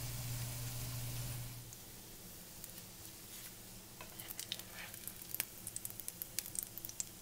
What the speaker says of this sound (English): it's not quite as satisfying as doing it in a frying pan